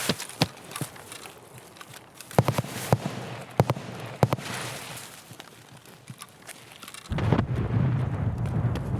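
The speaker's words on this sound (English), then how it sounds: "Listening to the types of guns they've got an AK at least." Sporadic AK rifle shots from other players during a game raid, distant sharp cracks scattered irregularly, single and paired, followed by a louder rumbling burst near the end.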